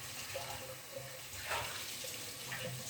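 Tap water running in a kitchen sink to rinse potted plants, a soft continuous splashing flow with faint surges, fairly quiet and close.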